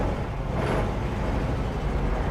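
A classic 1963 VW Single Cab truck pulls away in first gear, giving a steady, loud low engine rumble with a brief higher whine partway through and no talking.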